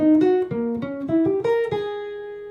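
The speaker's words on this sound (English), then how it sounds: "So the lick sounds like this." Jazz guitar playing a short modified lick: a quick run of clean, plucked single notes, rising then settling on a final note that rings out, close and clear with no voices.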